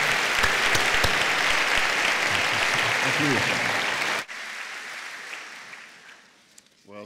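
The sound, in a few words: applause welcoming the school board president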